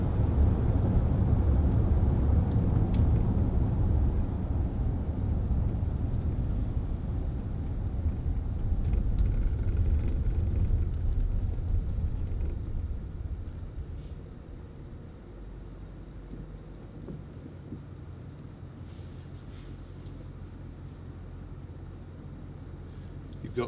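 A 2010 Range Rover Sport 3.6 TDV8 diesel driving, heard from inside as a deep steady engine and road rumble that eases to a quieter hum partway through, no talk.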